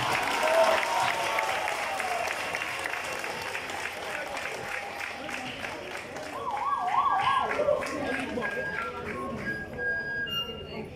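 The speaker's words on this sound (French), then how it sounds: "un exploit qui naturellement, fortement, instantanément et forcément mérite des applaudissements." A crowd applauds at a ceremony honouring a banker, with sustained clapping and cheering at a moderate level, mixed with crowd voices and some high, warbling tones, with background sound carrying through.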